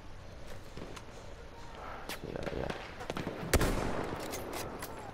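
Sharp sniper rifle shots in Battlefield 1, a few separate cracks spread across the stretch with one louder blast near the middle, set against steady battlefield noise.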